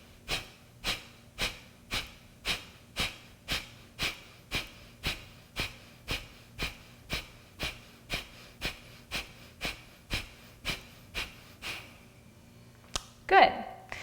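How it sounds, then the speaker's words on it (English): Nose breathing in a gentle yoga exercise for stress relief, with a long run of quick, evenly spaced sharp exhales through the nostrils, close and rhythmic, that stops and ends in one louder breath. "try this just very gently to begin with, in and out through your nose"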